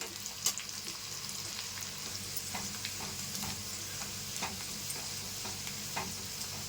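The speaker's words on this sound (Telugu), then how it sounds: "ఉల్లిపాయలు ఇలా వేగుతున్నప్పుడు కొంచెం కరివేపాకు వేసుకోండి" Steady sizzling of onions frying in hot oil, with occasional sharp crackles and pops and a few soft stirring scrapes, close and continuous.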